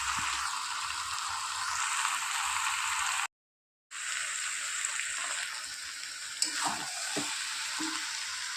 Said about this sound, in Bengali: এইভাবে চিকেনটা কষাতেই থাকবো। আলু কিছুক্ষণ কষানোর পর তারপর জল দেবো।